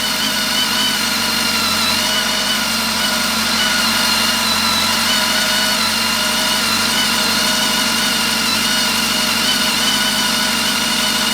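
A BMW K1300S motorcycle engine idling steadily after a repair, a continuous, even, loud engine drone with no pauses and no talk.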